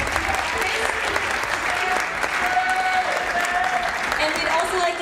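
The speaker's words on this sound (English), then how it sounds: "Give them a round of applause." A school audience at a Mr. GS pageant gives the judges a round of applause, dense steady clapping filling the room from start to finish, with a few voices mixed in.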